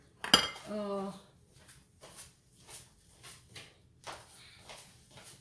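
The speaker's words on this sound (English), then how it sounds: "let me get my knife here" A kitchen knife lifted and handled on a counter while preparing squash, giving a sharp metallic clink followed by softer clatters and scrapes of utensils, close and fairly quiet.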